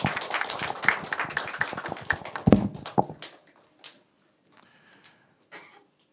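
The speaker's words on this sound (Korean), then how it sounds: "우리 화이팅 음으로 한번 박수로 축하하겠습니다" A church congregation at a Sunday service claps together for a few seconds, a close burst that fades into scattered taps and near silence.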